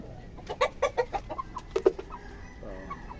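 Backyard chickens at a breeder's yard clucking in short, close bursts, several separate calls in the first two seconds, then softer scattered clucks.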